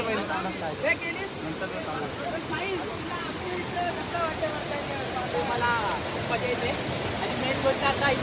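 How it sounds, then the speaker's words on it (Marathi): Steady rushing water flows continuously, with faint voices murmuring beneath the broad noisy wash. "पाण्याचा टाइम झालेला म्हणून पाणी सोडतो"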